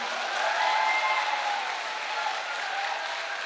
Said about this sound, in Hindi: और इसके लिए तो ताली बजा दो।